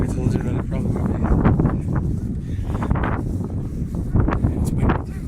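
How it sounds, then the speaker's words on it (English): Gusty wind at Cape Split buffets the microphone with low rumbling, while people talk close by. "It's windy too."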